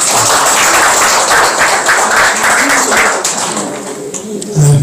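An audience at a Korean academic discussion forum claps to welcome a professor, a dense continuous patter of many hands close by, fading slightly toward the end.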